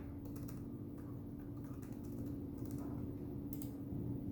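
Quick, light keystrokes tap out in an irregular run on a computer keyboard as a username and password are entered, faint and close over a low steady hum.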